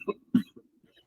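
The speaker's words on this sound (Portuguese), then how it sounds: "Eu tive que parar para tossir, porque aqui está muito seco" A man gives two short, close coughs or throat clearings in a dry room, followed by a faint trailing sound and near silence.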